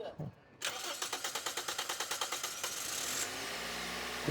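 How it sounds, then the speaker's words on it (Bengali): A Toyota Axio petrol car cranks with a quick, even run of starter pulses before the engine catches and settles into a low idle, with people talking nearby. "আমরা একটু গাড়িটা স্টার্ট দিব একটু স্টার্ট দেন"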